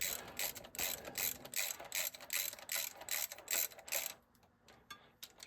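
A ratchet wrench tightens bolts on a Massey Ferguson 675 tractor, clicking rapidly in repeated bursts of pawl ticks. It is close and fairly crisp, then it quiets for the last second with no talking.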